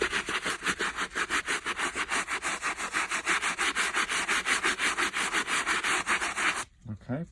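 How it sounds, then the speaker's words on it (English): A long brush scrubs Nike sneakers in rapid, steady back-and-forth strokes, close and continuous, stopping near the end. "what I'm gonna do now is grab my long brush. I'm gonna scrub all that."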